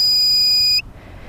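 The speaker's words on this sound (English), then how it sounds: "this is the pinpointer that comes with this metal detector" A metal detector's pinpointer from a Harbor Freight 9 Function Metal Detector gives a loud, sustained electronic beep close by, holding steady for nearly a second before cutting off abruptly into quiet background.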